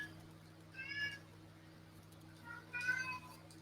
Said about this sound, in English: can I hear a cat meow? Yeah, it's Murphy outside, so he's wanting something